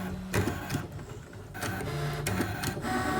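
A Brother ScanNCut cutting machine traces a stencil outline, giving a quiet, steady mechanical whir with short motor bursts and clicks as the blade head shifts, close by with no talking.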